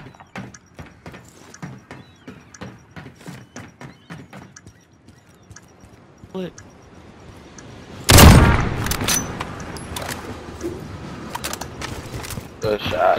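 Gunfire in a Call of Duty Modern Warfare Search and Destroy match: a sudden loud, sharp blast midway, after a stretch of quiet rhythmic footstep-like ticks, followed by lingering rumbling game noise.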